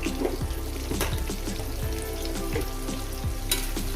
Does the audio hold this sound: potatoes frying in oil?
yes